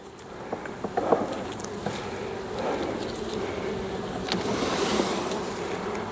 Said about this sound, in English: Yeah, there's bees there